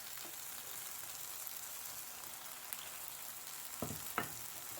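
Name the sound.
chopped tomatoes frying in a frying pan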